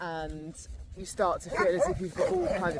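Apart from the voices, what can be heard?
dogs barking during a walk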